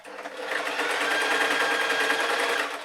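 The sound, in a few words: sewing machine stitching a fleece hat seam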